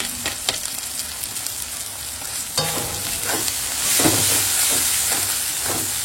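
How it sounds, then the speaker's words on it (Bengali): Dry red chilli powder, salt and chana masala sizzle and hiss as they are sautéed in a pan, with intermittent stirring scrapes and a bright frying crackle that swells midway. "দিয়ে মশলাটা কষিয়ে নেবো"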